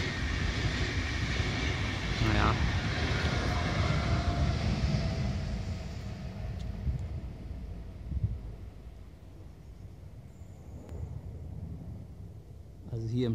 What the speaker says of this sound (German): Es war klar, jetzt muss immer der Zug vorbeifahren.